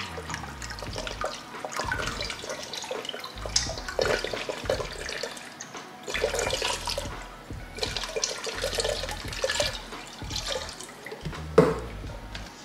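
Cool water being poured into a container with rubbing alcohol to mix a hoya plant treatment, a splashing, gurgling stream in several bursts with brief pauses, close and fairly loud, no talk.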